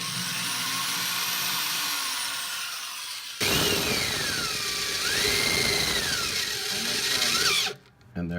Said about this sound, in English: I'm going to drill a pilot hole with a small drill bit that I'll finish from the other side